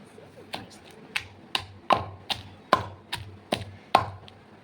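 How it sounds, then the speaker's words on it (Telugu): Tamarind pounded in a stone mortar for green chilli and ivy gourd chutney, sharp knocking strikes about every half second, close and fairly clear, with a faint voice now and then underneath. "కాదండి, ఫస్ట్ చింతపండు వేసి దంచుకోవాలి."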